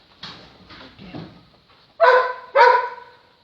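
A trained dog barks five times, a few softer yips followed by two loud, close, sharp barks, with no talking over them.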